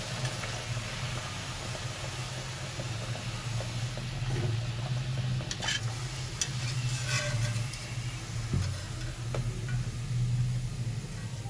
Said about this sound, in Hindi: सारी टिक्कियाँ हम ऐसे फ्राई कर लेंगे।